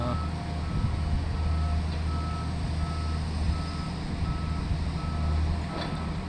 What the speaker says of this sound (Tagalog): nakaabang yung dump truck para mag-haul sa waste